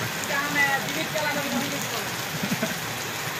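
Heavy rain pours steadily during a crowded late-monsoon Monday outing at Patalganga, a dense wash of hiss with faint scattered voices mixed underneath throughout.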